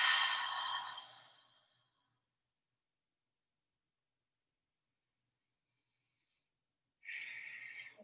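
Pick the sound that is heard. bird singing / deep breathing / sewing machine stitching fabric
deep breathing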